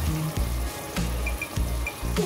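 Sliced onions frying for chicken biryani, a continuous sizzle in oil broken by periodic scraping or stirring strokes, close and moderately loud with no voices.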